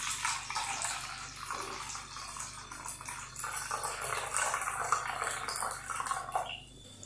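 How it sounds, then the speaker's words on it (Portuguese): Warm water poured from a measuring jug into a container while making esfiha dough, a steady splashing pour that rises and falls in intensity and then stops near the end, with no talking. "eu coloco a água aqui nesse recipiente"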